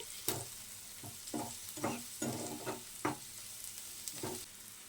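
Onions with curry leaves and salt are stirred as they fry in a pan for pepper chicken, with about eight crisp scraping strokes over a soft sizzle, near and fairly quiet, with no talking.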